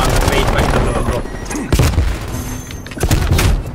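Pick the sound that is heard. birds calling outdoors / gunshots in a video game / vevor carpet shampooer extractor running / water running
gunshots in a video game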